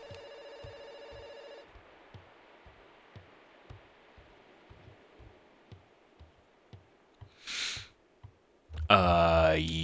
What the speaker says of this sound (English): Oh, there goes that phone again.